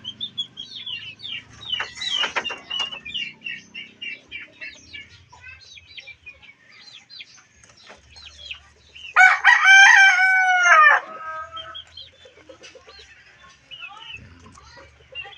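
A hen near its nest after laying eggs clucks in short, scattered bursts, then lets out a loud, drawn-out cackle midway, close by, with faint chirps around.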